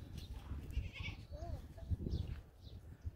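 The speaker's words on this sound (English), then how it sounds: "Oh, look at the goats, baby." A group of goats outdoors in Senegal bleat faintly at a distance amid rustling ambient noise, a few short wavering calls scattered through the scene.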